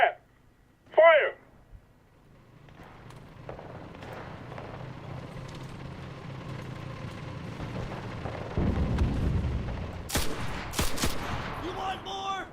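Artillery and gunfire in the World War II shooter Enlisted, a building rumble of distant shelling that swells into heavy booms and sharp cracks near the end, with shouted voices early on.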